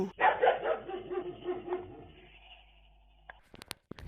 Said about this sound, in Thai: จากในคลิปจะเห็นว่าสุนัขมีการเห่าที่เบาลง